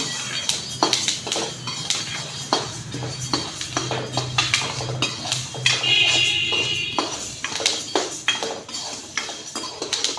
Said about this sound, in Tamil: எண்ணெய் இல்லாத வெறும் வடைச்சட்டில் தான் இப்போ வறுக்கணும்